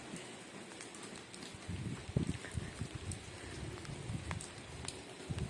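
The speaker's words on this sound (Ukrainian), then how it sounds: "незважаючи на дощик" Light rain falling outdoors in a garden, a soft steady patter of drops with brief louder spatters, fairly quiet and close, with no talking.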